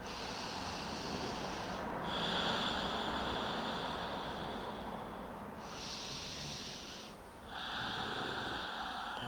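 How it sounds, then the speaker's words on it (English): Slow, deep breathing cycles during a calm stretching session, long airy inhales and exhales alternating in steady extended phases, close and soft with no speech. "Let's take 2 more cycles of breath here."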